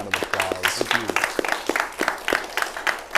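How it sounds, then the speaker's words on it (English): Audience applause after an interview at a Funkytown Focus event, a dense spread of hand claps lasting a few seconds at steady loudness, with a voice speaking faintly beneath it. "Would you please give Jason a very big round of applause?"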